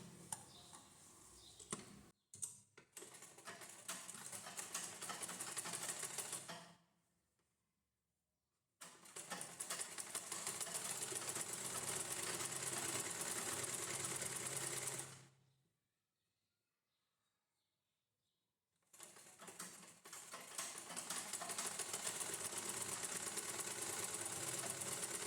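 A sewing machine stitches the folded edge of a blouse in three long steady runs, separated by short silent pauses; the motor whirs loud and close with a fast ticking needle rhythm and no talk.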